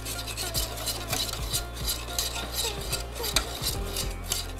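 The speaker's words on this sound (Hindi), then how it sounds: "इसको कंटिन्यूस चलाते रहें ताकि ये नीचे लगे नहीं।" Ragi flour mixture being stirred as it thickens in a pan, a spoon scraping and knocking against the metal in an uneven repeating rhythm, close and clear with no talk.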